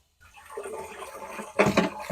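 Water gushes and splashes over aquarium canister filter parts during a final rinse. A steady running flow is followed by a louder burst of splashing near the end.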